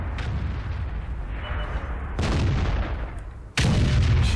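In the World of Tanks game, artillery fires several heavy booming shots, each a sharp blast with a long rumbling decay over a steady battle background, the final round loud and close.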